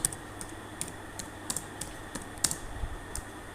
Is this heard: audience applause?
no